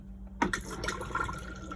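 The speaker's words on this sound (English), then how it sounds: "To actually flush the toilet, you push this blue button down here." A freshwater-flush cassette toilet in an Auto-Trail Cheyenne motorhome flushes after a button click, water running and trickling quietly into the bowl up close.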